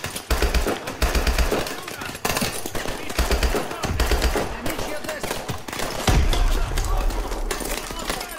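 Call of Duty Advanced Warfare combat gunfire rattles in rapid automatic bursts with heavy low thumps, close and loud, while someone talks over the shooting.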